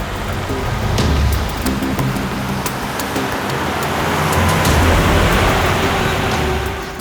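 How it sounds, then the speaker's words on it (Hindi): A car arriving, its engine rumble and tyre noise rising and falling against a steady wash of rain-like hiss, fairly loud and close, with no talk. "सर, गाड़ी की आवाज सुनी आपने?"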